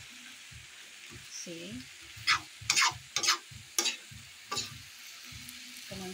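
Alugbati (Malabar spinach) is stirred as it cooks in a pan, producing a soft sizzle with a few sharp scraping clatters of the utensil against the pan, while a person talks throughout.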